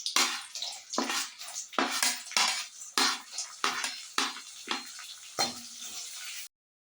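Dried sundakkai vathal (turkey berries) fry in a pan with a steady close sizzle, broken by repeated rhythmic stirring scrapes, before cutting off abruptly.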